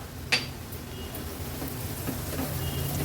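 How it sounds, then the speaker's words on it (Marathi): Turmeric, homemade Agri-Koli masala and garam masala sautéing with onions in hot oil for a Konkani mackerel curry, a steady close sizzle with a sharp clack of a spoon against the pan early on. "हळद मसाला आणि गरम मसाला व्यवस्थित असा कांद्यासोबत परतून घ्यायचा आहे"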